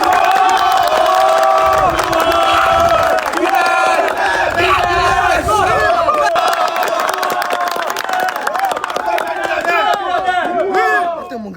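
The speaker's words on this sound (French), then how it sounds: "Ça s'applaudit." A live studio crowd at a French television show cheers, shouts and whoops loudly and continuously, with some applause mixed into the dense, sustained roar.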